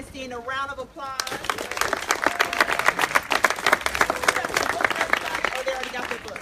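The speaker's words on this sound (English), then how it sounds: "Give Jay and Ernestine a round of applause." An audience breaks into applause after a brief spoken line, with dense hand clapping that holds steadily for several seconds before a voice returns near the end.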